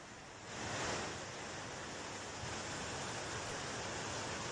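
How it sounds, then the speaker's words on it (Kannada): Floodwater of a swollen river rushing at Rishikesh during heavy rainfall, a dense continuous roar of churning water, loud and steady from start to end with no voices. "ನೀರಿನ ಹರಿವು ವಿಪರೀತ ಜಾಸ್ತಿ ಆಗಿದೆ"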